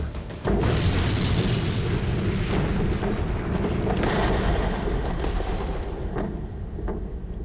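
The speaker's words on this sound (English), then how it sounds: "The SpaceX Falcon 9 rocket that was supposed to launch a communication satellite blew up during a test fire" A SpaceX Falcon 9 rocket blowing up during a test fire with its communications satellite aboard: a sudden loud blast followed by a sustained roaring rumble with scattered crackling pops, heard alone.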